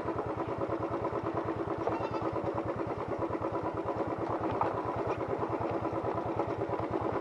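A motorcycle engine runs steadily on a trip near Likabali in Arunachal Pradesh, its close, loud, evenly pulsing idle-like thrum carrying without any speech over the whole stretch.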